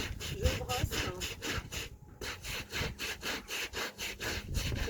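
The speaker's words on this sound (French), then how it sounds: "C'est mon balai picot, c'est le balai tout-terrain." A stiff-bristled all-terrain broom scrubs a surface in quick regular back-and-forth strokes, close and fairly loud, with a short pause midway before the rhythm resumes.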